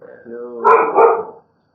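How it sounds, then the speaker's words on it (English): A puppy gives a short, close bark-like yelp that rises and fades within a second and a half, followed by silence. "Well, there's a puppy over there."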